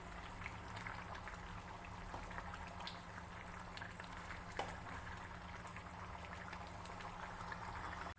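A covered pot of old-style toddy-shop chicken curry with crushed pepper simmers on the stove, giving a continuous close bubbling and hissing with a low burner hum and no talk.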